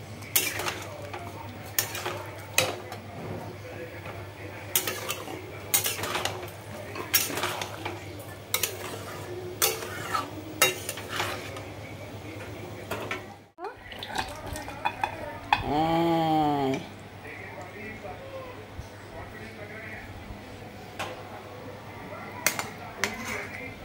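Aloo matar paneer curry with garam masala being stirred in a pan, a soft sizzle under rhythmic utensil scrapes and clinks, then a brief pause followed by a short tonal sound.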